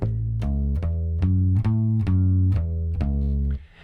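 A bass guitar plays a slow descending arpeggio from a song, octave, sixth, fifth, third down to root, eight evenly spaced plucked notes, clear and close, with no voices.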